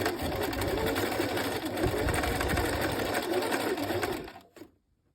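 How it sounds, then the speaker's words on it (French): A sewing machine runs steadily through a zigzag stitch on a knit top, set at tension 3, width 2 and length 1, with a continuous close whirring that stops abruptly near the end. "je peux aussi vous conseiller de coudre un point zigzag ici"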